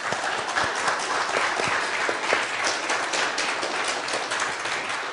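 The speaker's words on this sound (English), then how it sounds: "And one last round of applause for our speakers." Audience applause after speakers at an origins debate, a dense, sustained round of clapping from a large crowd in a hall, steady and fairly loud throughout the clip with no talking over it.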